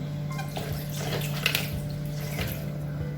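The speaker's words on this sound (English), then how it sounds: "I'm gonna add some water." Water pours steadily into pineapple banana shake ingredients with a soft, continuous splashing trickle, fairly quiet and close, no voices.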